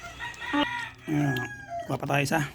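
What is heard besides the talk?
neighbour's chicken, rooster crowing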